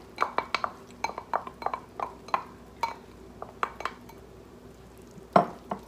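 Steamed mung beans and scallions stirred together in a pot, with a spoon clinking and scraping repeatedly against the metal in an uneven rhythm and one louder knock near the end.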